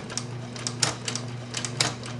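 A Singer 6268 sewing machine clacks steadily while it sews. Quick, light mechanical ticks repeat in an even rhythm, close by, with no one speaking.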